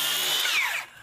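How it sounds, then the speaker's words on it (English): A power tool cuts through a Nudura ICF insulated concrete form foam block on a barn home build, a loud steady whine for under a second that fades out abruptly at the end. "This is going to get cut here."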